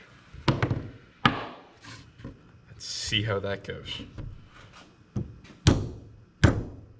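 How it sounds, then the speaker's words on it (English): Several sharp metallic hammer strikes ring out at irregular intervals as suspension bushings are knocked out on a Factory Five GTM kit car, with someone talking briefly in between. "we're gonna start out just trying to knock them out with a hammer"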